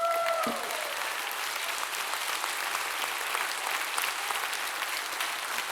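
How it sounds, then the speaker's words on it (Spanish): A church congregation applauds together during a sermon, a steady, dense wash of clapping that holds evenly for several seconds with no speech over it. "démosle palmas al Señor"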